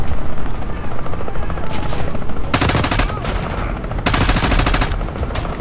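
Helicopter rotor thudding fills the scene alongside bursts of rapid gunfire and loud explosions, a busy Call of Duty: Black Ops 6 battle with no clear talking.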